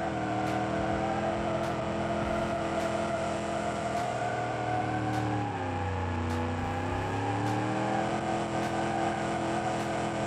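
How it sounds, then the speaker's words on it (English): Simulated 1970 muscle car doing donuts in the game Automation, engine held at a high, droning rev that dips and climbs once mid-way, with steady tyre whir, loud and continuous. "Let's celebrate with some donuts, because we have a manual locking differential,"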